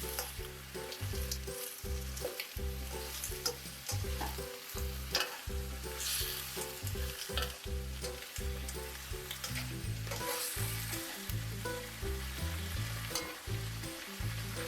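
Oxtail, blanched in boiling water, is stir-fried in a pan, giving a steady sizzle broken by repeated scraping and clanking stirs from start to finish, with no one speaking.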